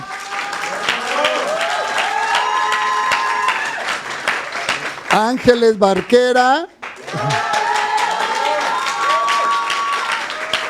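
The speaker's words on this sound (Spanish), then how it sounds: "Nos van a acompañar Sara Villanueva, para quien pido un fuerte aplauso." An audience at an inclusive-environments discussion applauds the guests, with bursts of clapping under a presenter's voice introducing names, a short gap in the middle, then more applause behind continued speech.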